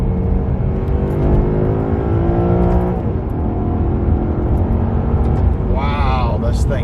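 A Maserati Quattroporte V8 accelerates on an open road, its engine note rising steadily under wind and road roar, heard from inside the car as a voice speaks over it.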